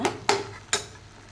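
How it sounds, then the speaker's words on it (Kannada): A spoon knocks against the pot three times, sharp and brief, while tempering is mixed into a tamarind puliyogare gojju; the clinks are faint and spaced apart with quiet in between. "ಒಗ್ಗರಣೆ ಮಿಕ್ಸ್ ಮಾಡಿದ್ದೀನಿ"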